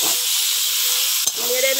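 Green plantain sizzles in hot oil in a pan with chili powder just added, a loud continuous frying hiss with a brief stir scrape near the end.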